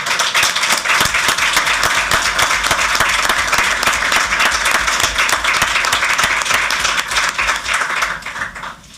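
A room full of people at a school board meeting gives students a big round of applause, loud, dense clapping close by that stays strong throughout before tapering right at the end.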